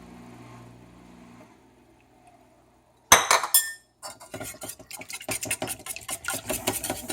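A whisk beats a milk and honey mixture in a bowl with quick, repeated metallic clinks against the dish, following an initial glassy clatter and a quiet lead-in.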